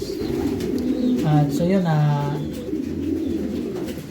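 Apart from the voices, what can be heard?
racing pigeons cooing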